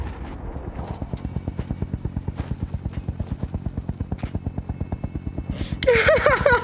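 A helicopter in the Call of Duty video game thumps with a rapid, even rotor beat, loud and steady, before a sharp burst of other game sounds cuts in near the end.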